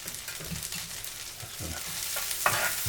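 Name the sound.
flour cooking and being stirred in a pan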